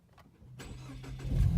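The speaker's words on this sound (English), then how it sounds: "go ahead and start it back up." An EcoBoost Mustang engine cranks and catches after a tune, starting quietly with a brief crank and then rising into a steady, louder idle rumble that builds toward the end.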